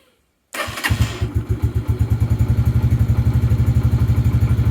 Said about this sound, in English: We'll just start the engine again.